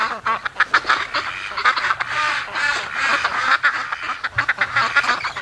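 Ducks bred in a snowy yard quack while plowing through deep snow, a close, busy stream of overlapping raspy quacks in quick irregular bursts, with no talk.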